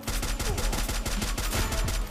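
Rapid automatic gunfire from a shooter video game: a dense, loud burst of repeated shots in quick rhythm, close and continuous with no talk.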